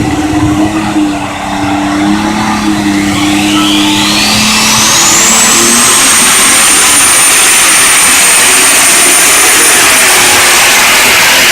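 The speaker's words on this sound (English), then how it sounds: "Watch the wheels spin on this tractor, fans. They'll turn them hard." An alcohol-powered pulling tractor at a fair tractor pull roars loudly. Its engine pitch climbs sharply within a few seconds, then holds at a sustained high scream.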